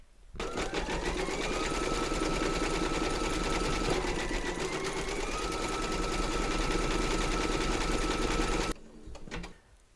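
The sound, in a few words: embroidery sewing machine stitching a design round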